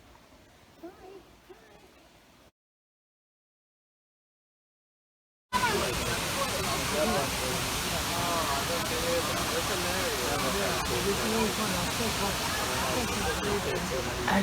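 A waterfall in the Brecon Beacons, Wales, roars as a loud, steady broadband rush after a quiet stretch and a brief silence; voices from the many people visiting blend faintly into the din.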